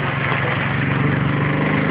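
A four-wheel-drive vehicle's engine idles and labours in low gear off-road, with a steady, close, throbbing rumble and no voices.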